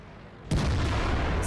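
A tank cannon round slams into an enemy IS-8 in World of Tanks, a single loud, sudden boom that breaks a near-silent moment and rolls on as a dense, sustained rumble.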